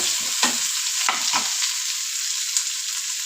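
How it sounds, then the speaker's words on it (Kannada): Spices for chicken sambar fry in hot oil, giving a steady bright sizzle throughout, with a few scraping stirs early on and no voices. "ಹಾಕ್ಕೊಂಡು ಚೆನ್ನಾಗಿ ಫ್ರೈ ಮಾಡ್ಕೊಬೇಕು ಈ ರೀತಿ"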